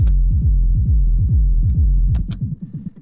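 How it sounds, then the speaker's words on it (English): A deep, throbbing bass rumble layered under a kick drum pulses in a fast, steady rhythm, with a few brighter percussive hits near the end as the low pulses thin out. "I'm going to mute the original kick, and let's go with the rumble. It sounds like this."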